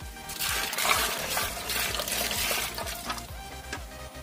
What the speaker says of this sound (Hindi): एनेदरे पानी अलग दी लैछु